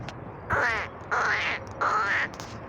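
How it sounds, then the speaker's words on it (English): Geese at a dam in spring give three harsh, nasal honking calls spaced about a second apart, moderately near and clear against a quiet outdoor background. "the geese are leaving"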